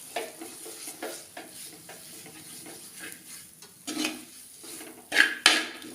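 Tomatoes frying in oil for a Kerala sardine curry, stirred in a pan: soft sizzling with intermittent scraping strokes and light clinks of a utensil against the pan, growing louder near the end.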